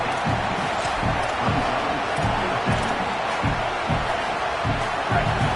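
A crowd roars in a football video game, a broad, steady wash of noise with a pulsing low thump and no clear voices standing out.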